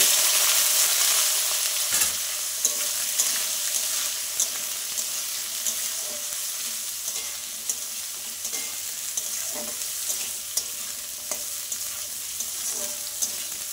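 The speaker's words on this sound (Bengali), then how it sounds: "তো দেখো আমি বেগুনগুলো এবার দিয়ে দিচ্ছি।" Eggplant pieces fry in a hot pan for a Bengali khesari greens dish, with a steady sizzle under repeated scraping and stirring strokes of a spoon, close and fairly loud, with no talk.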